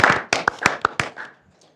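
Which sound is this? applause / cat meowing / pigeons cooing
applause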